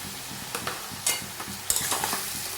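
Poppy seed and white mustard paste being sautéed in a pan for Bengali shukto, a steady close sizzle with repeated scraping stir strokes and occasional sharp utensil clinks, no voices.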